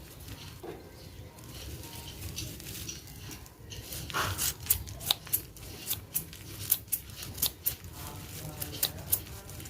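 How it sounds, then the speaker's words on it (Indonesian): Scissors snipping dry bamboo leaves into small pieces, a series of crisp, regular cuts in the second half, close and fairly loud over faint rustling. "Saya pakai gunting seperti ini banyak di Shopee ya buat mempercepat."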